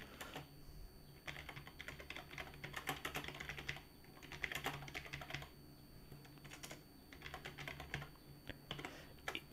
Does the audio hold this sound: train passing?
no